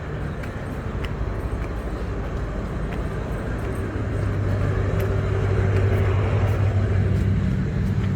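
A train rumbles past at Wat Tham Khao Pun, Kanchanaburi, Thailand, at a steady, loud level with a continuous low roar and faint rhythmic clatter of wheels, swelling slightly midway.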